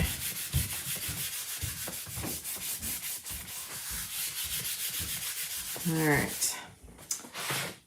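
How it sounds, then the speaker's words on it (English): Rhythmic rubbing strokes buffing wax over a Chalk Couture transfer, repeated close scrubbing passes at a steady pace, with a brief squeaky rub near the end. "It won't seem so waxy or sticky when you really get a good buff in there."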